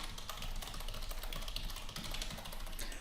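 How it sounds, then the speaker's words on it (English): Steady rapid clicking on a computer keyboard while filling in details on a WordPress contact form, continuous close keystrokes with no pauses. "I'll type in my details"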